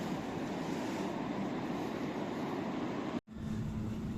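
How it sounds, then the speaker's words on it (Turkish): Steady rumble and hiss of a train ride heading toward Frankfurt central station, continuous interior noise with a brief sharp dropout near the end, no voices. "Trendeyim arkadaşlar. Şu anda Frankfurt merkeze gidiyorum."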